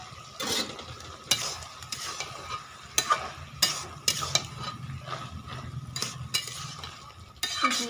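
Vegetable paste sizzling and frying in a pan for khichuri, with a utensil stirring and scraping in repeated sharp strokes and occasional clinks against the metal, close and steady with no talk.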